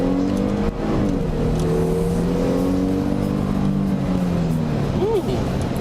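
A 2017 Dodge Durango Citadel with a V6, floored from inside the cabin, its engine droning loud and steady as the pitch climbs and shifts through gears, with road and wind noise underneath.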